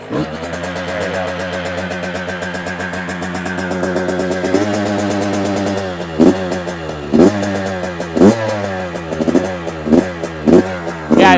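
A Yamaha YZ85 dirt bike engine runs after a kick start, holding a steady loud idle before a series of sharp throttle blips that rise and fall in quick succession.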